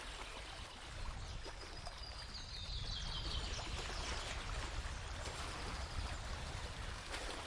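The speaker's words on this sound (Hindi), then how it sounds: "दूर दूर तक बस चिड़ियों की आवाज और पानी भरने की हल्की खनक सुनाई दे रही थी।" Outdoor ambience beside a quiet village pond with clear water, grassy banks and shady trees: a steady wash of trickling water fills the scene while faint birds chirp intermittently in the distance, no voices.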